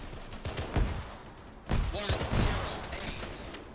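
Gunfire in the Arma 3 video game, a few sharp bursts and scattered shots at moderate distance, the loudest cluster near the middle of the clip.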